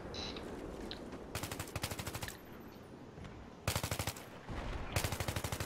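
Automatic gunfire from the video game Battlefield 3, with repeated rapid bursts of rattling shots at a steady rhythm, loud and close, separated by short pauses.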